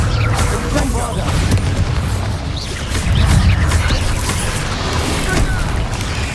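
Bombarda blasting spell explosion in the video game Hogwarts Legacy, with loud sustained booming, rumble and crashing debris running throughout amid other combat noise.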